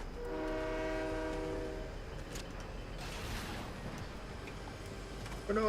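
A video game train sounds a sustained multi-tone horn over a rumbling rail bed, the horn fading after a couple of seconds while the rolling rumble continues, ending with a sharp clank.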